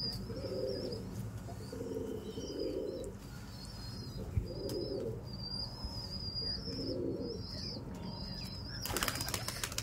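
A flock of high-flyer pigeons coo in a repeating soft, low rhythm, with fluttering wingbeats and faint chirps, and a burst of flapping wings near the end, close by.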